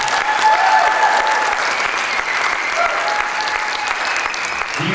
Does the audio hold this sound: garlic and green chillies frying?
no